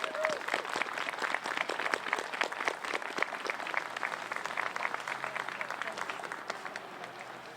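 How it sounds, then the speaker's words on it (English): A crowd at an outdoor Veterans Day ceremony applauds the children who held the flags, a sustained, even patter of many hands that fades slightly toward the end. "let's give a round of applause to the children that held the flags"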